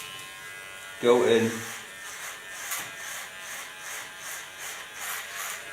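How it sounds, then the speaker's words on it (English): An electric hair clipper buzzes with a pulsing, laboring drone as it works through a client's very thick hair, continuing under a short spoken remark from a person nearby. "Because my clipper really has to work to get through the hairs."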